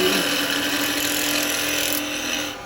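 Gouge cutting a live-edge Laburnum bowl on a wood lathe, a loud continuous rough hissing scrape of the tool against the spinning wood, close up and steady before easing off at the end.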